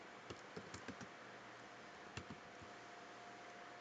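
Someone types JavaScript code on a computer keyboard in quiet, sparse bursts of key clicks, a few close taps then a pause and two more, with no one speaking.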